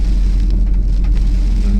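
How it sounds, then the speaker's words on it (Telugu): Steady rain patters on a surface in a village on the trek to Paderu, a dense hiss over a strong low rumble, continuous and close. "వర్షం స్టార్ట్ అయింది"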